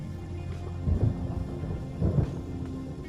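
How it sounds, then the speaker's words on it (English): Rain and thunder in the video game Captain of Industry: steady rainfall hiss with two low rumbling thunder swells, moderately loud and with no talking. "That rain is nice."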